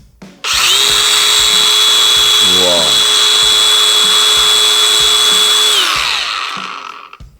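DeWALT 4051 cordless angle grinder on a fully charged 5A battery spins up with a sharp rising whine, then holds a loud, steady high-pitched drone for about five seconds before winding down. A short voiced exclamation is heard near the start.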